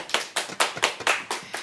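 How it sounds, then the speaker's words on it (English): Hands clap in a loose, even rhythm, about seven sharp, close claps in under two seconds, distinct and unaccompanied by talk. "But everybody, clap your hands."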